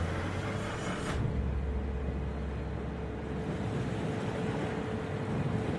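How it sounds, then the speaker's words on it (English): A warship's engine boost in a naval combat video game produces a broad, steady roar of engine and rushing water, with a low rumble shifting about a second in and continuing unbroken. "Engine boost activated."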